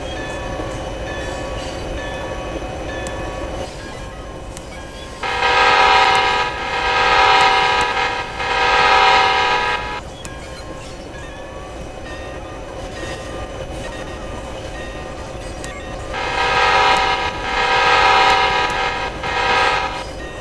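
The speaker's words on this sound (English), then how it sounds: "I just blew off the horn." Locomotive horn in Train and Rail Yard Simulator, on a Rio Grande 303 genset switcher: two loud sustained multi-tone blasts of several seconds each, separated by a long gap, over a steady low engine rumble.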